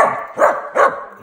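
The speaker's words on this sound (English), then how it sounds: "The dog that talks back to you." A dog talks back to its owner's commands with two loud, close, drawn-out yowling barks in quick succession, heard alone without speech.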